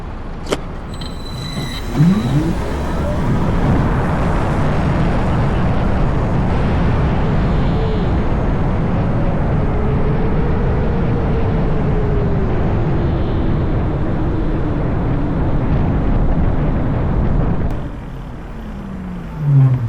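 Verge TS Pro electric superbike accelerating on the road, a rising motor whine over steady wind and road rush, sustained and close, easing off near the end.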